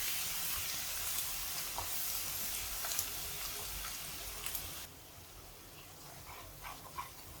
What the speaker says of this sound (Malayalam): ഇഞ്ചി വെളുത്തുള്ളി കറിവേപ്പില മുളക് എല്ലാം കൂടി ഇട്ട് കൊടുക്കാം അത് കരിഞ്ഞു പോകാതെ പതുക്കെ ഇളക്കി കൊടുക്കണം